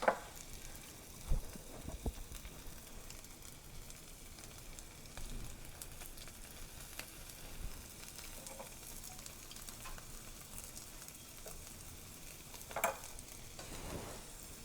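Chopped onions and garlic sauté in olive oil in a pan for New Mexico chicken tortilla soup, giving a faint, steady hiss with occasional soft stirring knocks and a few brief louder clinks.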